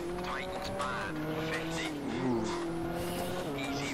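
A rally car on tarmac in Richard Burns Rally, its engine droning and revving steadily through rising gears with some tire noise, while someone talks over it.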